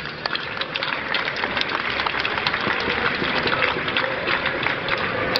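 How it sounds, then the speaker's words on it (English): Audience applause for soldiers after an army display of unarmed combat drills, a dense, steady patter of many hands clapping that holds at an even, fairly loud level throughout. "Please give a round of applause for the lads."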